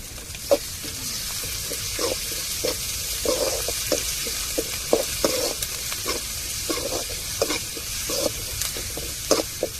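Ginger and garlic stir-fried in a pan, with a steady bright sizzle and repeated scraping strokes of a spatula at an even rhythm, close and fairly loud, with no talking.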